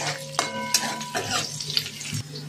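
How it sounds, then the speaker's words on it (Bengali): Cashews and raisins fry in oil in a pan for fried rice, with a soft sizzle beneath a few clinks and scrapes of a spoon against the pan, close and brief, with no voices. "ওই তেলের মধ্যে কাজু কিশমিশটা দিয়ে নেবো।"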